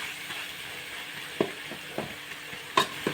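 Tomato, coriander, mint, garlic and onion fry in hot oil in a pan, with a steady close sizzle broken by several sharp scraping stirs and no talk.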